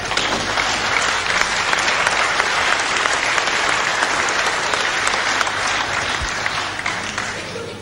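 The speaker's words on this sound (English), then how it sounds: "Great applause for Kilby there" A boxing crowd applauds Alan Kilby in a steady, dense wash of clapping that holds at full strength for the whole stretch, with no voices rising above it.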